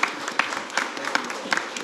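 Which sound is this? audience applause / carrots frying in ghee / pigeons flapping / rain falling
audience applause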